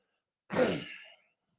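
A single short, breathy throat-clearing cough sounds once in a quiet room, then silence.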